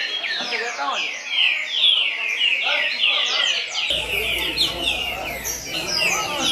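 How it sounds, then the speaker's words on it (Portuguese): A caged songbird at a bird song competition in Rio de Janeiro sings rapid, bright chirping phrases one after another, close and clear, with some talk and background noise underneath. "O pássaro tem um volume de canto."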